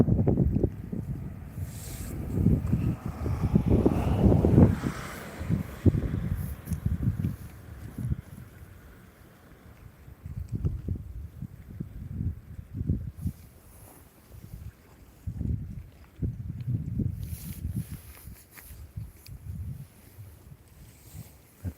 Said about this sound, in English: Comes the wind again.